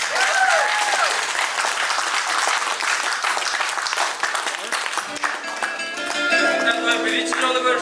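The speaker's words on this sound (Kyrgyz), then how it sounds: "Кол чабуулар туугандар." Guests at a wedding in a restaurant break into sustained, dense applause that stays loud throughout, with some music coming in toward the end.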